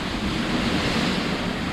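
Ocean waves at sea aboard a sailboat on the Ionian Sea, a steady broadband wash of surf and water rush with strong wind buffeting the microphone, continuous and close with no voices.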